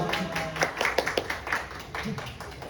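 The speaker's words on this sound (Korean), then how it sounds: "박수." A small group claps briefly in a scattered, uneven patter during a youth church service, with voices talking over it.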